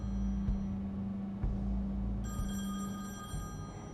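A telephone rings in The Wolf Among Us video game, a steady electronic ring over a low hum with a few soft thumps, moderately loud and with no talking.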